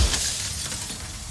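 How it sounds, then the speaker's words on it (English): A mirror cracks and splinters in the video game Slay the Princess: a sharp glassy crack at the start, then a sustained brittle, crackling shatter that stays loud and close throughout. "A crack slides down the center of the mirror, splitting the image in the glass in two."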